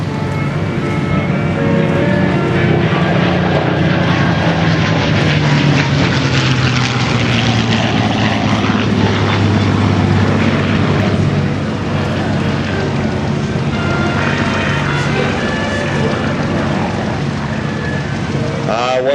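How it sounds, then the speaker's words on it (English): World War II propeller fighter planes roar past at an airshow in New England, a loud sustained engine drone with shifting pitch as the aircraft sweep by close overhead, filling the whole stretch. "Here comes the first of our fighters in for an attack."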